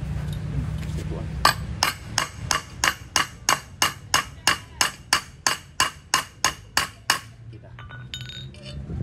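A hammer strikes parts of a Yamaha 125Z motorcycle during clutch repair work: about sixteen sharp metallic blows land at a steady, even rhythm, each one loud and close with a bright clinking ring.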